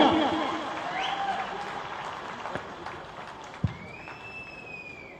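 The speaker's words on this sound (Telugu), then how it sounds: "గట్టిగా విజయం కోసం చప్పట్లు కొట్టాలి గట్టిగా" Audience applause at a Nalgonda graduates' political rally, a broad steady wash of clapping heard from a distance that slowly fades, with a few sharp thuds and whistles over it.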